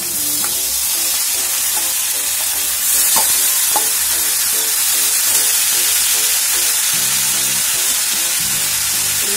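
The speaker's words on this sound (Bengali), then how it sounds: "আর একটু হলুদ দিয়ে নেড়ে চেড়ে দেবো। এবার এই সিদ্ধ মোচাটা পুরো দিয়ে দেবো।" Boiled banana flower and turmeric stirred in a hot pan, a loud continuous sizzle with scraping stir strokes throughout and no talking.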